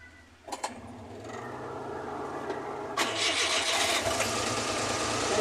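A Suzuki F6a engine, still hot and showing bubbles in the radiator, runs steadily after a couple of sharp clicks near the start, its idle hum growing slightly louder and fuller toward the end with no talking.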